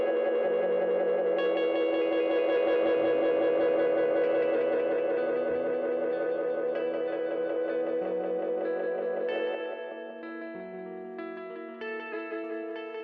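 A GS-201 Space Echo tape-echo emulation app on iPad repeats a sustained chordal tone in swirling, overlapping echoes, loud and continuous, thinning and softening toward the end.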